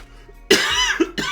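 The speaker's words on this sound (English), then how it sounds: "hang on, I got a cough." A single close, loud cough from a sick man, a harsh burst followed by a shorter second hack after a brief silence.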